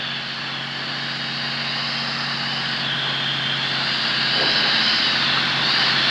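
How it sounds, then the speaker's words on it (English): A light aircraft's propeller engine drones steadily and loudly on short final approach in gusty conditions, its pitch shifting slightly as the power is adjusted, with no talk over it. "just obviously adjusting the engine just so that we can make the threshold of the field"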